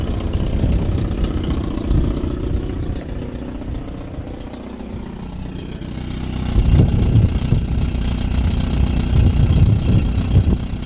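A car engine idling with a slight rattle from the exhaust touching a bolt on the transmission tunnel: a steady, close, low rumble that grows louder and rougher partway through, with a faint metallic buzz.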